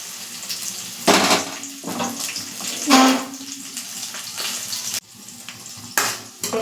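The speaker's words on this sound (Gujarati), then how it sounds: "તેલ ગરમ થઈ ગયું છે હવે આપણે ગેસ ધીમો કરી લેશું અને જે સમારેલા ભીંડા છે તે એમાં એડ કરી લેશું" Chopped okra hitting hot oil on a lowered flame, giving a steady sizzling hiss with louder bursts and stirring scrapes as the pieces settle into the pan.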